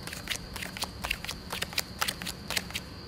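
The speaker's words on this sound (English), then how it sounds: "You start counting off the cards one at a time." Playing cards are dealt off a deck one at a time, giving a string of crisp, close snapping flicks at an uneven, roughly half-second rhythm over quiet background.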